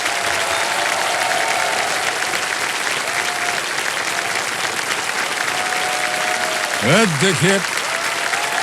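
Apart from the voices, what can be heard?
studio audience applause on a game show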